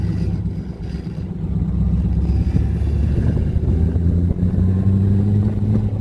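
A 1935 Hudson McIntyre Special's engine drones loud and close as the car drives, a deep steady rumble that rises slightly in pitch, heard alone without talk.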